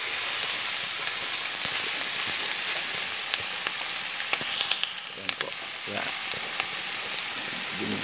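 Ingredients for snail adobo in coconut milk are sautéed in a pan over a provincial cookstove, giving a loud, continuous close sizzle with scattered crackles and pops throughout.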